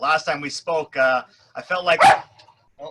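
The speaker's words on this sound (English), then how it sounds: "Hey, that's my dog." A dog gives a single sharp bark close by, cutting in near the end of a conversation indoors.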